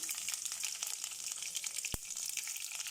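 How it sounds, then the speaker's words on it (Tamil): Mustard seeds spluttering and popping in hot oil for a homemade rasam mix, a dense continuous crackle of fine pops close by, with one sharp louder snap partway through and no talking. "இப்படி ஆயிலில் கடுகு இப்படி நல்லா பொரிஞ்சு தான் கருவேப்பிலை போட்டுக்கலாம்"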